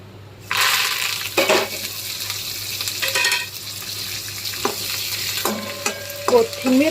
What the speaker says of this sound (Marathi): आता हे तेल गरम झालेलं आहे। आता याच्यामध्ये आपण जिरे टाकून घेऊयात।